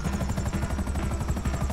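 A helicopter in a video game whirs with a fast, steady rotor chop, loud and close, pulsing evenly throughout without any talk.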